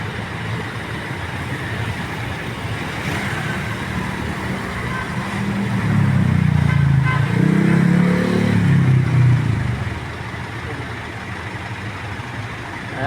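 Road traffic of cars and motorcycles on Boni in Mandaluyong, a continuous wash of engines with a louder vehicle swelling past midway, then fading back to steady rumble, no talk.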